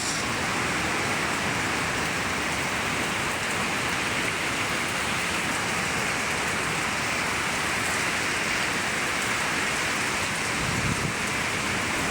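Heavy typhoon rain pours down in Iriga City as a dense, steady roar that stays loud and unbroken throughout, with no voices.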